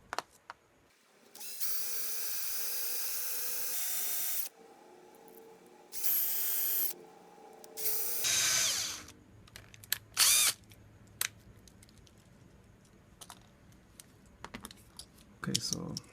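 A drill bores out the plastic posts of a Hot Wheels Real Riders die-cast car: two long steady whirring runs and a shorter burst, followed by scattered clicks and handling noises up close.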